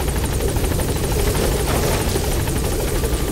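A helicopter in the video game Metal Gear Solid V: The Phantom Pain gives a loud, steady, close rotor drone with a rapid whirring chop that holds constant throughout.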